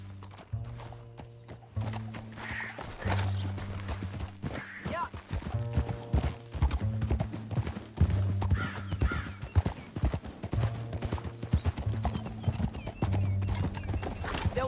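Steady clip-clop of hooves at a galloping rhythm in the video game Red Dead Redemption 2, with a couple of whinnies, loud and close, over a low rumbling backdrop.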